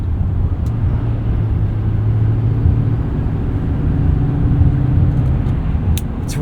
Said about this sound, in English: Gotta say, I've always loved driving a diesel truck.